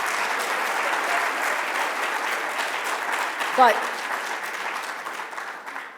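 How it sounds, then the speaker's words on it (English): An audience at a Hurricane Sandy anniversary event applauds Reverend Mullins with sustained, dense clapping that stays steady throughout, and a brief voice cuts in near the middle. "let's give him a round of applause"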